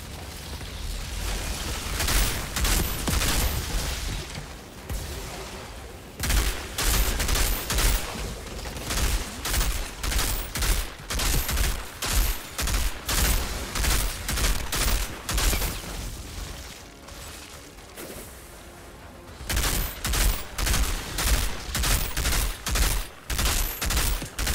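Mortar rounds and gunfire in the shooter game Outriders, with loud, rapid bursts of explosions and shots hammering nearly without pause across the whole stretch, broken by two short lulls.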